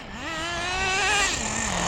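A Team Losi XXX-NT nitro RC car with an OS 12CV engine on 30% nitro fuel screams close by in a parking lot, its high whining pitch climbing steadily, peaking, then dropping as it revs, no talking.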